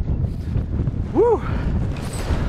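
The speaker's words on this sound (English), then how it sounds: "Oh, it's windy!" Strong wind buffets the microphone on a mountain summit, a steady loud roaring rush throughout, with a brief rising-and-falling whoop of a voice partway through.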